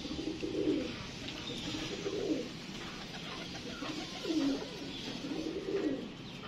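A male pigeon courting a female coos in soft, rolling bursts, four distinct coo phrases spaced through the stretch, close and quiet against a faint background.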